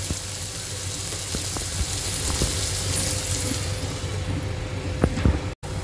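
Boiled chickpeas sizzle in oil and cooked masala for restaurant-style dry chole, a steady, close hiss with scattered light pops and a brief clatter near the end.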